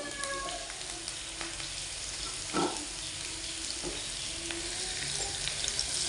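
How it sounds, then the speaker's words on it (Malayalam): Onions and curry leaves sizzling in hot oil in a pan, a steady loud frying hiss throughout with a brief stir partway, no talking. "സവാളയും കരിയാപ്പിലയും ഇട്ട് കൊടുത്ത് അതൊന്ന് ഇത്തിരി അങ്ങ് മൂക്കണ്ട"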